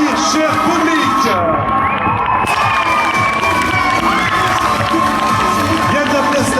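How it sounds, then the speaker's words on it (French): A crowd cheers, whoops and shouts loudly and continuously at a cosplay contest during the Coupe de France de cosplay selection at TGS Montpellier, with some clapping mixed in, dense and close throughout. "Allez, c'est le moment d'applaudir, cher public."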